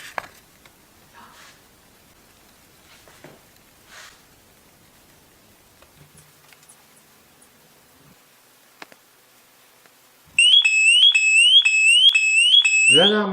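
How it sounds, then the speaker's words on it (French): A Spexor smoke alarm goes off after a quiet stretch of faint rustling, sounding a loud, rapid, repeating high-pitched electronic warble that continues to the end. "L'alarme est déclenchée."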